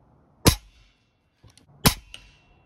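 Two sharp cracks about 1.4 seconds apart, each with a brief ringing tail, from a Model 62 firing at a metal ram target 100 feet away, with a faint metallic tick between them.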